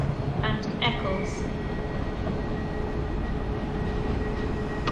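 A train at Manchester Piccadilly station, with a dense low rumble and hiss filling the platform, a few faint squeals early on, and people talking over the steady noise.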